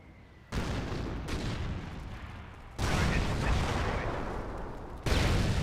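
Artillery barrage in the video game Company of Heroes: dense, rumbling blasts roll on continuously, swelling in sudden stages as new volleys of explosions land.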